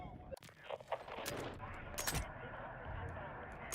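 Gunfire from a weapon with heavy recoil in the shooter game Battlefield 6, heard as a few sharp bursts over a dense, busy battle bed with constant background noise.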